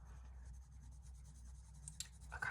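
An oil-based Polychromos coloured pencil is rubbed across the paper of a small colouring book, producing quiet, rapid scratchy strokes close up that sharpen into a couple of brisker rubs near the end.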